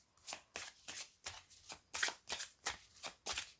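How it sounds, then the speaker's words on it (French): A deck of La magie des fleurs oracle cards is shuffled in about nine quick, soft, evenly spaced riffles heard up close. "Donc nous allons mélanger les cartes"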